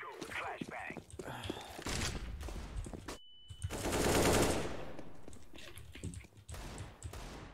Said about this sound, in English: He's shooting you from somewhere.